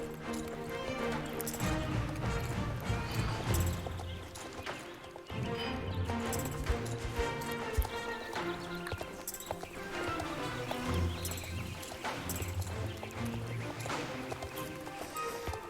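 Horse hooves clip-clop at a slow, plodding walk in the Star Stable video game, a steady rhythm of close footfalls mixed into a dense layer of game music and ambience.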